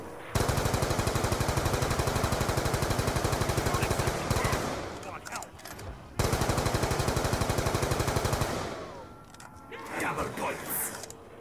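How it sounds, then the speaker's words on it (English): AN-94 rifle fire in Black Ops 2 Zombies, two long loud bursts of rapid automatic shots separated by a pause, followed by quieter game sounds and a voice talking. "Back to using the AN because the MTAR ran out of ammo."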